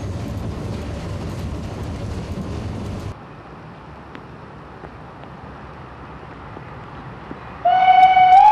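A model train rolls downhill on a steep mountain line, a loud rumbling run that drops to a faint rolling hush, then a sharp sustained whistle sounds near the end.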